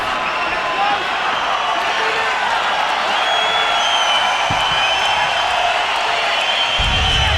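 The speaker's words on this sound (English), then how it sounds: "the crowd certainly appreciating the effort here of both men" Crowd noise at a UFC fight involving Jim Miller, a steady broad roar of cheering and applause running loud throughout, with commentary voices talking over it.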